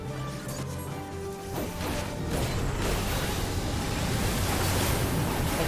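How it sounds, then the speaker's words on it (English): Crashing waves attack in Final Fantasy XIV as a flooding strike, heard as a loud, broad rushing roar of water that builds and surges and drowns out the game music underneath. "let the crashing waves cleanse you of your sins"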